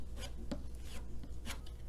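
A putty knife spreads glue across the back of a canvas, giving soft scraping rubs with a couple of brighter strokes near the middle and end, close by with no talking.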